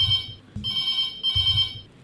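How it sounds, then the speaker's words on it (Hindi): A telephone bell rings in two bright, steady bursts separated by a short gap, clear and close with no talking. "फोन आउन लगे, फोन की घंटी बजन लगी"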